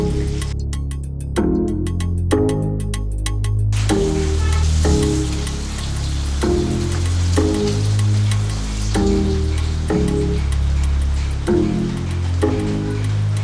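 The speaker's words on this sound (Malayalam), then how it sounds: "ചിക്കൻ ഇടയ്ക്ക് തിരിച്ചും മറിച്ചൊക്കെ ഇട്ട് വറുത്തെടുക്കുക." Chicken pieces fry in hot oil as they are turned, giving a steady, close sizzle and crackle that runs throughout under a rhythmic, repeating musical backing.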